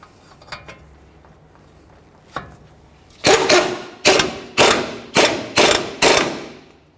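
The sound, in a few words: tightening the lower ball joint nut, Ford Explorer Sport Trac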